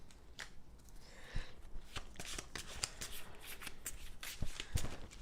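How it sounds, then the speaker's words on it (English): Deck of Resident Evil 2 board game cards being shuffled by hand, quick crisp riffles and soft slaps in a close, quiet room, repeating over a few seconds. "let's just do one proper shuffle more before we jump right into it"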